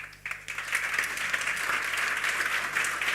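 Steady audience applause from a crowd at an opening gala stage event, dense and sustained for a few seconds with no talk over it.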